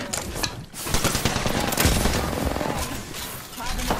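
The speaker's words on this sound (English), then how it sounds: "I'm taking shots. Firing." Automatic gunfire in Apex Legends, with dense rapid bursts of loud close shots that crackle almost continuously, brief gaps between volleys and mechanical clicks mixed in.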